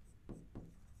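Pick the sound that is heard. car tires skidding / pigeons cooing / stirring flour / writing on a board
writing on a board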